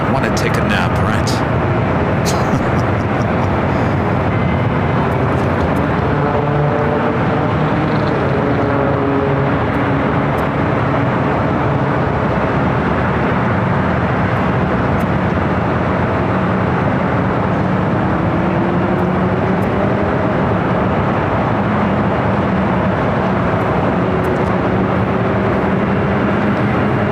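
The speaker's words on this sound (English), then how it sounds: "Just the sounds of the noises here at LAX is enough to make you want to take a nap" Ambient airport noise at LAX: a continuous broadband roar of aircraft engines and ground vehicles, with droning tones rising and falling, under a voice talking.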